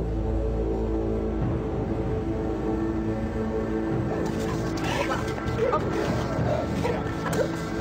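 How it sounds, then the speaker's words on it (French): Prison drug detection dogs bark and yip in a noisy enclosed space, with scattered clatter and whimpers, the barking becoming busier and more excited in the second half. "Des chiens de détection arrivent à Aylesbury pour y rechercher de la drogue ou des objets de contrebande."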